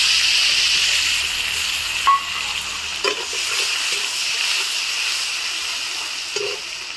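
Crushed garlic and onion frying in hot oil in a pan after potatoes were fried, giving a steady bright sizzle with a few stirring clicks, close and continuous, with no talk.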